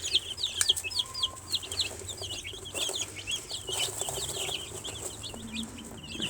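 Hungry young chicks peeping and clucking at feed: a dense, continuous chorus of high chirps close by, with a faint low hum beneath.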